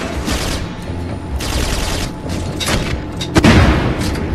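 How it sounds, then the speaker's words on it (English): Gunfire in Syphon Filter: Logan's Shadow comes as several loud, rapid bursts of shots over steady background battle noise, ending in a heavier booming blast. "Gun's freaking amazing."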